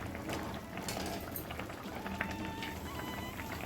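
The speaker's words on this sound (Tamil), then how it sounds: "புளி விட்டு நல்லா கொதி வந்துருச்சு" Sambar with tamarind simmering in a pot for a Madurai temple-style sambar rice, steady bubbling and soft popping at close range, continuous and moderately quiet with no voice over it.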